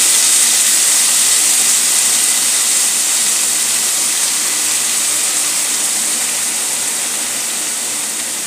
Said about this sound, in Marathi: त्यामध्ये एक मोठा चमचा तेल घालून घेऊया आणि आपली ही मेथी यामध्ये घालून